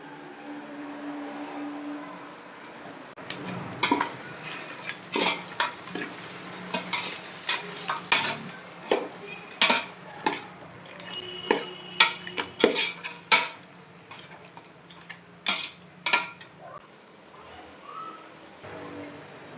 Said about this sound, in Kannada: ರುಬ್ಬಿರುವಂಥ ಟೊಮೆಟೊವನ್ನು ಮಟನ್ಗೆ ಸೇರಿಸ್ಕೊಳ್ಳೋಣ